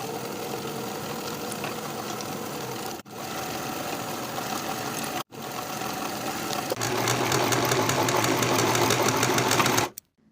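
A sewing machine stitching the cuff seam of a jacket sleeve, a fast, even mechanical whir running in long bursts with brief stops between, close and steady, the final stretch running slightly faster and louder.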